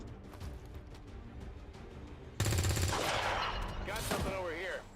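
Soldiers firing shots in the XCOM 2 strategy game: a dense burst of gunfire erupts midway and runs loud and continuous for a couple of seconds over a game soundtrack, with faint talk in the mix.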